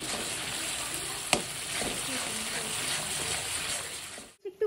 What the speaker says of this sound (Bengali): এখন ফোড়নে দিচ্ছি জিরে, একটু গরম মশলা, তেজপাতা, হলুদ